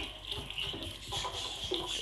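Water pours into a pot of chana dal in a home kitchen, a steady splashing gush heard close and alone for a couple of seconds.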